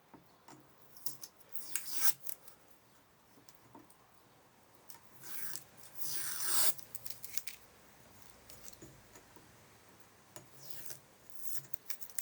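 Packing tape being peeled and stripped off a surface in several bursts of ripping and rubbing, the loudest tearing pull near the middle, with quieter scraping and rustling in between.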